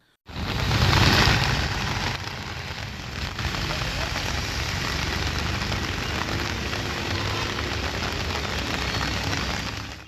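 Heavy rain pours down in Theni, Tamil Nadu, with water pooling on the road. It is a loud, steady, broadband hiss that starts abruptly and holds for about ten seconds.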